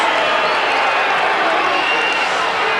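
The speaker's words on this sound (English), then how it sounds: "Crowd not too happy with it." A 1991 Australian football crowd at a Brisbane versus St Kilda match reacts with dense, sustained murmuring and jeering after a 50-metre penalty, a steady roar of many voices from across the stadium with no single sound standing out.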